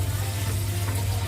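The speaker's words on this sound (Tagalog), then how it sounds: "Kung gusto mo nang medyo may konting sabaw, yan natin ng konting tubig." Water is poured into a pan of stir-fried eggplant with sliced pork, making a steady, fairly quiet splashing hiss with a low background hum.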